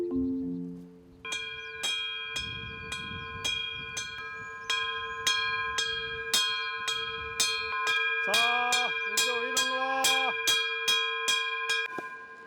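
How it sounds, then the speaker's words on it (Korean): A bell is struck again and again in a steady rhythm on Jirisan mountain to call black goats grazing free on the slopes, ringing clear and close for over ten seconds, with a short faster flurry near the end. "난데없는 종소리가 지리산을 깨웁니다."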